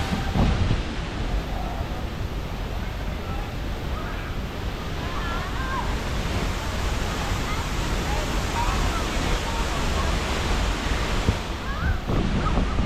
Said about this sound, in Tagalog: Laki ng bagsak ng tubig.